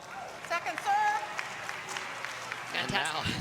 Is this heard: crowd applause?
yes